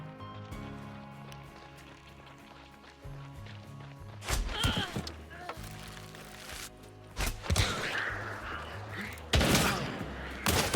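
Shotgun blasts in a Paladins ambush on Lamat, a few loud broadband bursts standing out from steady game music and ambience, the sharpest near the end, with no talk.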